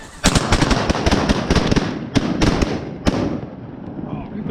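Shotguns fire at geese during a goose hunt in a rapid, loud volley of close blasts, overlapping with more shots following, as hunters shout over the shooting.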